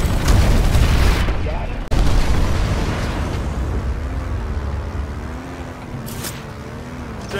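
Gunfire and booming blasts in a sci-fi online shooter game, a dense continuous barrage of shots and explosions with a brief sharp break, while a player's voice talks briefly over the fighting.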